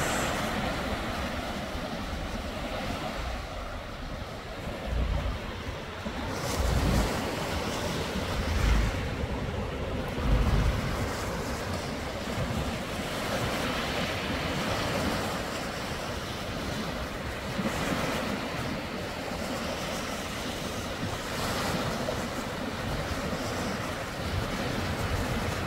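Ocean waves break on a New Jersey shore with continuous surf roar and heavy wind buffeting the microphone, swelling in several louder surges throughout.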